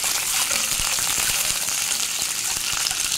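Six boiled eggs frying in oil, giving a dense, continuous close sizzle with faint crackling pops throughout.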